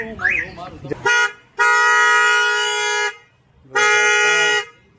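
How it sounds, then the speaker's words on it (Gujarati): A newly fitted aftermarket car horn blasts in loud, near bursts: a short toot, a long sustained honk, then another long honk, with a brief voice just before. "હોર્ન ફિટ થઈ ગયું છે અને હોર્ન વાગે છે"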